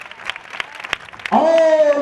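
A congregation at a revival meeting in Hyderabad claps in scattered, sharp bursts for over a second, then a strong, sustained voice takes over as the claps fade beneath it.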